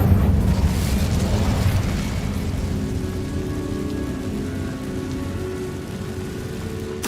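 Incendio fire spell cast in the video game Hogwarts Legacy, a loud continuous roaring, crackling burst of flame that stays steady for several seconds with a rumbling low end and no talking.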